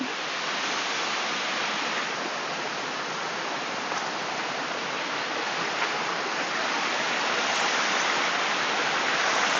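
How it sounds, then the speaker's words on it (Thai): Steady roar of falling water at the lower curtain of Tat Yai Waterfall in Phetchabun, a broad, unbroken rush close by that holds even throughout with no voices over it. "โอเค เราถึงม่านน้ำตกด้านล่างแล้วนะครับ"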